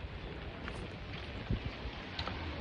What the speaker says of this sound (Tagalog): Kanina umuulan, ngayon umaambon naman.